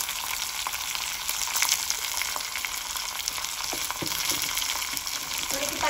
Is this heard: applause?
no